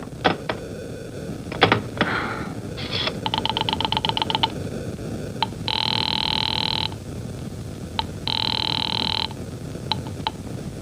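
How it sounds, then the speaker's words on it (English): Old-style rotary telephone being dialed as a radio drama sound effect: repeated bursts of ratcheting clicks and dial whirs, then two steady ringing or busy tones, up close and alone. "Operator, I've been dialing Murray Hill 40098 now for the last 3/4 of an hour"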